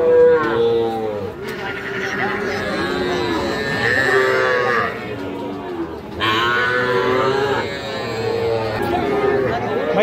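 Heifer calves and other cattle moo repeatedly at a busy livestock market, long bellowing calls overlapping one another and sounding close and loud over a steady hum of crowd chatter.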